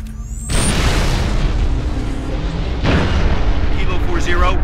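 Artillery barrage in Halo Reach: a heavy boom opens the clip, then sustained rumbling blasts and a second distant-sounding impact, with faint radio chatter in the background.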